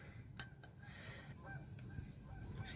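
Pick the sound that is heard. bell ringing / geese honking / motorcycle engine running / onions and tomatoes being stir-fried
geese honking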